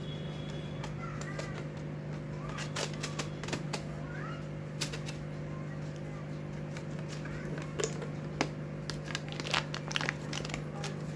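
Someone cuts open a cardboard box of fish food, producing quiet irregular crinkles, snips and small cracks in short bursts over a steady low hum, close and faint with no speech.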